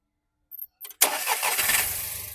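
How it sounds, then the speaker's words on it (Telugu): A 2011 Volkswagen Polo Comfortline petrol engine cranks briefly after a couple of short clicks, then catches on the first try and settles into a steady running rumble. "సింగిల్ సెల్ఫ్లో బండి స్టార్ట్ అవుతుంది"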